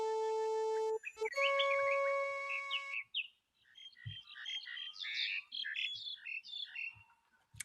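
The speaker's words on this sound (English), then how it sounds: "Are you going to get to listen to these birds the entire time?" Game birds chirping in the Star Trek 25th Anniversary video game: after a synthesized musical tone, a busy cluster of bright tweets and trills repeats steadily, fairly close and alone.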